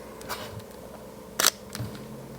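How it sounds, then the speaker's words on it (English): Sony A7 IV mirrorless camera firing its shutter: one crisp, quick click near the microphone in an otherwise quiet room, with a few faint handling ticks before and after. "a Sony A7 IV, and we're going to listen to that shutter sound"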